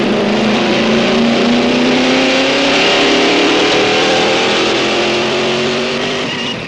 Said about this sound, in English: The SZ is rear-wheel drive and features the wonderful Busso V6 engine, which produces 210 horsepower.